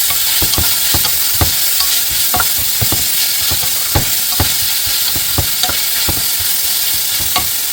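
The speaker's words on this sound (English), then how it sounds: "So what I'm going to do now is just kind of stir this around and let it caramelize." Cabbage being stirred in a hot pot for Cajun-style cooking, caramelizing as it cooks: a steady close sizzle broken by a dozen or so sharp scraping strokes of the spoon at an uneven, unhurried rhythm, with no talking.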